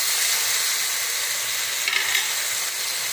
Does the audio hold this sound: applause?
no